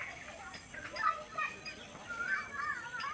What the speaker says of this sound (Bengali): কোকিলের ডাক